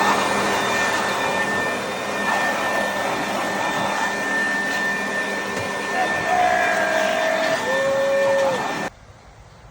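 Loud, steady air blower roaring as it blasts dust out of a Toyota C-HR hybrid's battery intake, a continuous rushing hiss with whining tones that cuts off abruptly near the end.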